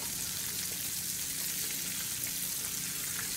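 A sweet potato burger sizzles steadily in a frying pan just after being flipped, a continuous close hiss and crackle with no talking.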